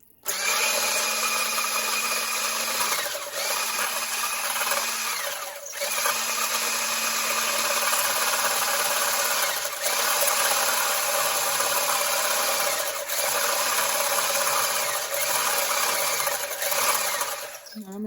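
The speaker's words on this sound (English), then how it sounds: "So I'm going to whisk this up in here on high." A stick blender fitted with a whisk attachment runs on high, a loud steady motor whine that pauses briefly several times and restarts, whisking pink grapefruit sorbet base.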